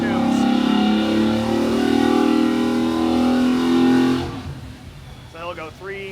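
A car engine on an open-air dyno in an engine-building shop revs hard and loud for about four seconds with a rising, sustained roar, then cuts off abruptly, leaving a quieter hum and a brief voice.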